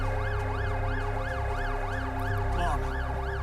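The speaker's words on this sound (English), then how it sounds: "Ambulance." Wailing ambulance siren in The Alters video game, a steady rising-and-falling two-tone sweep repeating about every half second, loud and continuous over a low rumble, with a brief jolt near the end.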